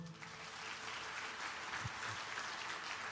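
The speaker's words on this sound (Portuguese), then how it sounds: "Aplauda ao Senhor." Church congregation applauds during a sermon, a steady wash of many hands clapping heard faintly and at a distance, continuous throughout with no talk.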